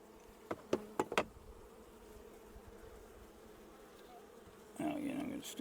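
A low, steady buzz of many bees hums throughout, with a few sharp knocks early on and a louder swell of buzzing near the end.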